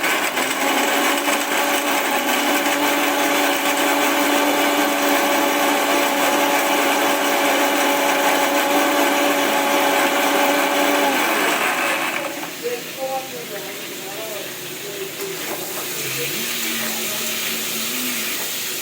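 An electric mixer grinder grinds spice paste in a home kitchen with a loud, steady whirring drone for about twelve seconds, then cuts off, leaving quieter kitchen clatter.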